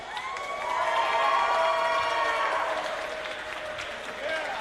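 An indie wrestling crowd in West Newton cheers and applauds for Rev Ron Hunt's entrance, a swelling roar of voices that fades slightly toward the end.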